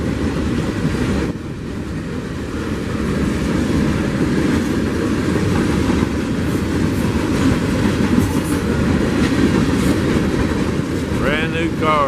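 A freight train rumbles steadily past on the rails in Sweetwater, Tennessee, loud and close, with a continuous low roar and rattling wheels for the whole stretch.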